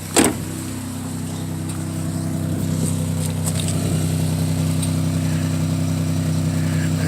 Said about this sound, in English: see what our work sounds like